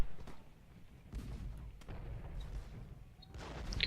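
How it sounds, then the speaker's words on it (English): Artillery battery fire in Ultimate General: Gettysburg, a Civil War battle game, heard as several dull distant booms and low rumbling bursts spread over a few seconds against a steady battlefield din. "We're getting pounded by Zimmerman's battery there."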